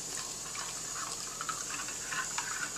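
Thin slurry being poured into a pot of meatloaf gravy on the stove, a steady continuous liquid stream splashing close by for a few seconds, with no talking.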